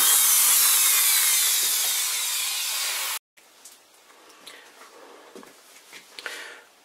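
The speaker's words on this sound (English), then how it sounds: "I'm going to drill a little hole in here" A loud, high whining drill grinds into a metal heatsink for a few seconds, stops abruptly, then quiet clicks and small handling noises follow.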